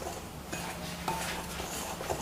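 Flour, semolina and salt stirred together in a large bowl, giving soft scraping and clinking of a utensil against the bowl in a steady rhythm, quiet and close, with no talking.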